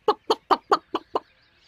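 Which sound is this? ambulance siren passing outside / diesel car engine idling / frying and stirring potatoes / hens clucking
hens clucking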